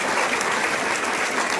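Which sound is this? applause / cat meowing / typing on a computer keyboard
applause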